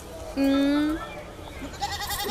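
A barren nanny goat, brought in for breeding, lets out one loud, close bleat lasting about half a second, followed by quieter farmyard sounds and a fainter cry near the end.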